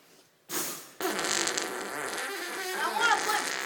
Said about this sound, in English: I'm going for a real fart.